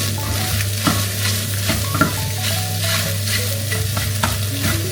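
Egg pieces sizzling steadily in hot oil for egg manchurian, a continuous close frying hiss with soft stirring scrapes and a low steady hum beneath, no voices.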